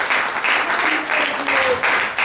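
A church congregation claps together as an offering of praise to Jesus, a loud, steady burst of applause filling the room for a couple of seconds.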